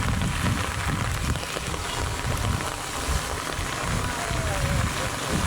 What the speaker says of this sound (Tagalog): Tapos umuhos pa yung malakas na ulan.